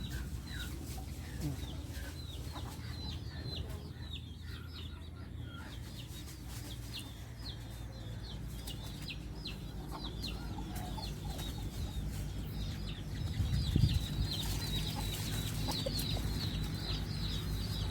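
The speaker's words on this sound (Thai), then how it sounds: "ไปเบิ่งเป็ดเบิ่งไก่เฮาสิเข้าคอนก่อน" Chickens cluck softly and repeatedly as they settle onto their roost at a rural farmyard, with a quiet steady murmur of fowl and a brief thump near the end.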